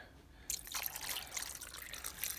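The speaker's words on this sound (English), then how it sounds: "I'm going to add a little bit of water." After a short quiet lead-in, water pours into a crockpot of hamburger soup as a soft, steady splashing stream close by, with no voices.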